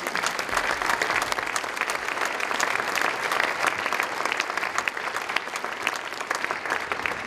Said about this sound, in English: Would you give these students a round of applause